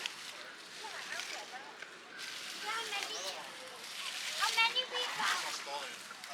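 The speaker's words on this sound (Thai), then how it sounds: "ปลาตัวเดียว แต่ตัวใหญ่คาบไปกินแล้ว ตัวเล็กยังทะเลาะกันเลย" Fish splash and thrash in water as they fight over food, small fish squabbling while a bigger one snatches a meal; irregular splatters and sloshes continue throughout at moderate distance, with a person talking over them.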